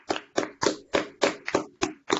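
Audience applause for William Mackrell comes as a run of rhythmic, fairly close claps, about eight sharp bursts in two seconds with no talking.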